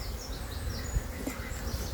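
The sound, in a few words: honeybees buzzing in a beehive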